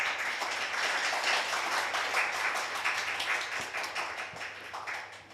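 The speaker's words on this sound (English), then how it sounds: "Can we have one more round of applause for Huck and Atia for such a fantastic talk?" Applause from a conference audience at PyCon APAC 2023 after a talk, a dense steady patter of many hands clapping throughout, fading slightly near the end.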